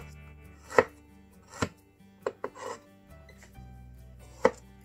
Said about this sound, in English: I'm cutting the ginger with the back.